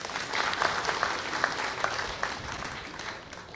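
Steady applause from a crowd at an office inauguration ceremony fills the space, a dense wash of many hands clapping that holds fairly even and slowly tapers.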